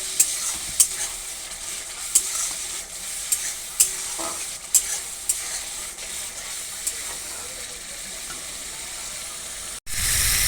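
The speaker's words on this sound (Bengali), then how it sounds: "দিয়ে আমি আবার ভালো করে কষিয়ে নেব।" Spices with green chillies and a little sugar are stir-fried for lau kofta curry, a steady close sizzle broken by regular sharp spatula clicks against the pan, with a loud knock near the end.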